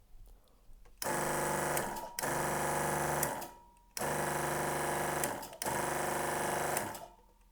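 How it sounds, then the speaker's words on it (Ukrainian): Hydraulic power unit driving a 30-ton manual oil press, a loud, steady mechanical whir in four long runs of about a second and a half each, separated by short pauses, close and without talk. "покажу, як працює маслостанція"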